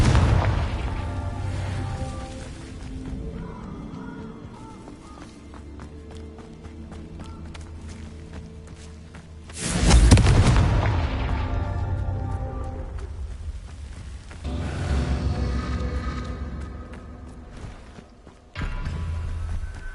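Repeated blasting-spell explosions go off in a Harry Potter video game, with a sharp boom near the middle and another near the end over continuous game sound and music.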